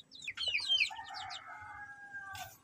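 Chickens being fed fermented leaves on a farm cluck and squawk close by, with a rooster-like crow, in a busy, overlapping chorus of hen calls throughout.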